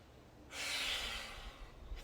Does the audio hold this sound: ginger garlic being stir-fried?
no